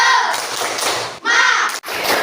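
A classroom group of teachers and pupils performs a rhythmic spirit clap, a loud, dense burst of hand claps and thumps in two bursts split by a short pause, with voices mixed in.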